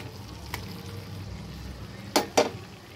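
Fried pointed gourd added to a sizzling spice paste with sugar in a pan, a soft continuous sizzle broken by a few sharp clattering drops and stirs.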